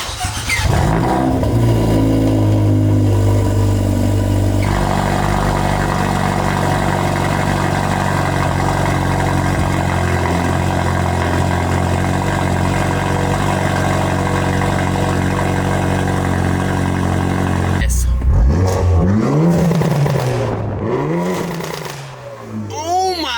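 Straight-piped Hyundai Elantra N with an XForce downpipe, engine roaring loud and close at sustained high revs, then dropping off into sharp blips and rising sweeps near the end.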